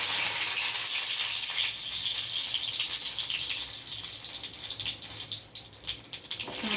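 Nigella seeds hit hot mustard or white oil in a pan and sizzle steadily, a bright hissing crackle that holds loud throughout and turns to faint popping near the end.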